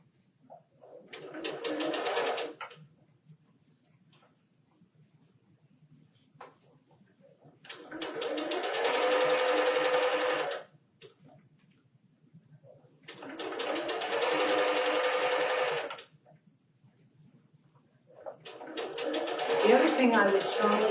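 A sewing machine stitches quilt blocks for a disappearing nine-patch square, running in four separate bursts of about three seconds each with quiet gaps between them, close and fairly loud.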